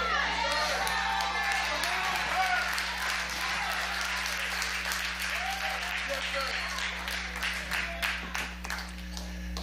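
Church congregation clapping during a sermon, a sustained round of applause with scattered cheers over a low hum, with a voice speaking alongside.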